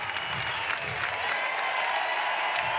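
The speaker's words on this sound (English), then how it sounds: "an ovation for Kleinschmidt heading to the dugout by this record crowd at Goff Stadium at Coleman Field" A record crowd at Goff Stadium at Coleman Field applauds steadily during a college baseball game as the Oregon State pitcher leaves the mound, a dense, continuous ovation.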